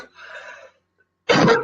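Two coughs, a softer breathy one followed after a pause by a harsher, louder one, close to the listener.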